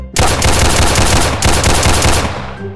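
AK rifle fire in a Roblox hood shooter game: loud, rapid automatic bursts crackle in a fast, steady rhythm, pausing briefly once before another burst and tailing off near the end.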